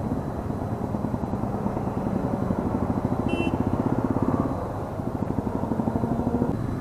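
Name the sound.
superbike motorcycle engine sound while riding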